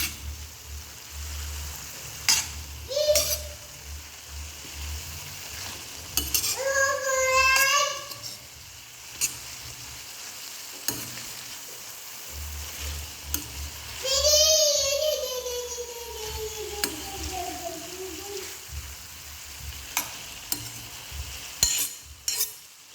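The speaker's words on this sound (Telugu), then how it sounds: "వీటన్నిటిని ఒకసారి అయితే కలుపుకుందాం." Brinjal curry with turmeric and salt stirred in a pan, a soft scraping and sizzle under a low hum, with brief voices in the background.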